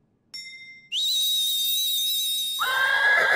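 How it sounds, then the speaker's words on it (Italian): A cartoon horse neighs in a shrill, squealing whinny that rises into a long, piercing, whistle-like call, then drops into a rougher, breathy tail. The sound is loud and close and stands alone with no voices over it. "Cavallo Silky"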